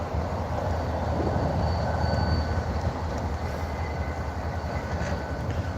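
Illinois Central locomotive pulling out of a station onto the main line, giving a loud, steady rumble of engine and rolling railcars with faint wheel squeal on top, with no talking.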